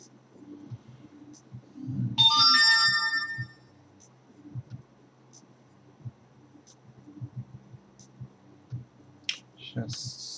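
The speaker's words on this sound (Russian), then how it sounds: "Сейчас, смс кто-то прислал сейчас." Phone SMS notification tone, a short bright melodic chime ringing out for a second or two, then quiet room noise with faint clicks and a voice talking.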